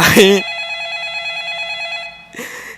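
A telephone rings in a horror game, a steady electronic trill held for about two seconds between bursts of loud, startled voices at the start and end.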